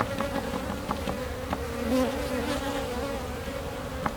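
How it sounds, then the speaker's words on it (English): Honey bees swarm around an open hive during an inspection, their steady droning buzz close and continuous, with brief tonal whines as individual bees pass near and a few light knocks from handling. "let's get some of the bees out of here"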